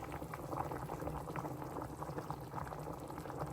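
Potatoes bubble in a pot of boiling water on the stove, a continuous close rolling boil with dense irregular bubbling and no voices.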